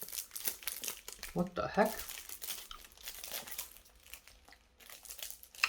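Crinkling plastic packaging on a Demon Slayer movie item being snipped open with scissors, heard as close, sharp crackles and tearing bursts around the middle, with someone talking over the quieter rustles.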